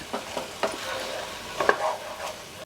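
Prawns semi-frying in a pan for a prawn iguru, with a soft sizzle and several scraping stirs of a spoon against the pan, close and fairly quiet, no voices.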